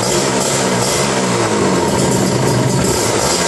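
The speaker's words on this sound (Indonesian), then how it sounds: "Jadi kita starter lagi ulang. Mesin jalan ya, pengisian ada lagi." A Kawasaki Ninja RR motorcycle engine running up close, a loud, steady buzzing two-stroke drone with no breaks and no voices.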